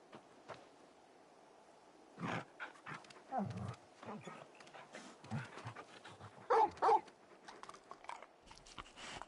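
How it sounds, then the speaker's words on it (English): A large dog-like creature in Final Fantasy 16 pants, snorts and gives short growling barks in scattered bursts, some loud and close, separated by quiet pauses with low breathing. "You're just a big puppy, aren't you?"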